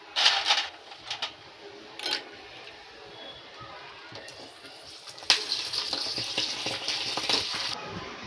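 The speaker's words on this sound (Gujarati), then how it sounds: "ભૂંગળા તળી નાખશું" Bubbling, crackling sizzle of food frying in hot oil, with a few sharp clatters early on and a louder burst of sizzling near the end.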